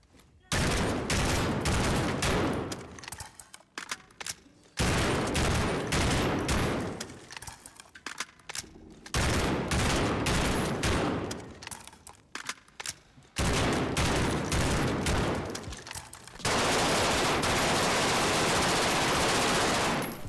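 Automatic weapons firing tracer rounds in the Modern Warfare video game, with long, loud sustained bursts of rapid gunfire broken by short gaps, ending in one continuous stretch of fire.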